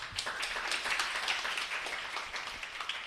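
A classroom of students applauds a classmate during a calculus lecture on derivatives. The clapping is moderate and fairly distant, a steady patter of many hands that lasts the whole moment with no talking.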